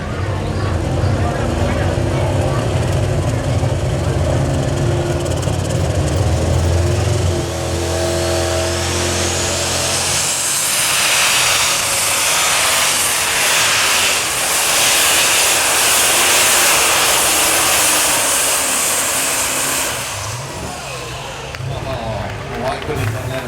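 A super stock pulling tractor at a county fair tractor pull in Chatham, New York roars loudly and continuously, its engine pitch climbing during the pass before easing off near the end.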